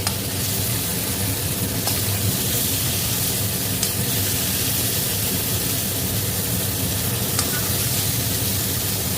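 Pointed gourd (potol) frying in a little oil with spices gives a steady, close, hissing sizzle that continues without break. A few faint clicks of stirring sound over it.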